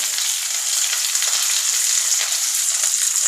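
Onions fry in a hot pan with curry leaves and a pinch of asafoetida for coriander rice, giving a steady, bright, close-up sizzle that holds evenly throughout with no talking.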